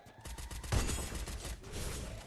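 Rapid bursts of gunfire in the shooting game Free Fire, a loud dense volley with scattered shots around it, heard alone without talk.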